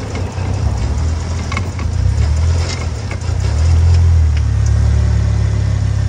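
A Ford Focus ST engine fires up and runs close by with a steady idle rumble, then rises into a louder, heavier rev partway through.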